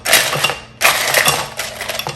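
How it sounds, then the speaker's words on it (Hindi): Ice cubes added to a fizzy peach mocktail, two bursts of clinking, rattling cubes dropping into a glass or jar, close and fairly loud, no talk. "और अब इसमें थोड़ी सी डालेंगे आइस"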